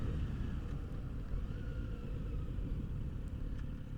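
Kawasaki Z900 RS motorcycle rolling on in second gear while merging onto a freeway, a steady low engine drone with heavy wind rumble, continuous and close throughout.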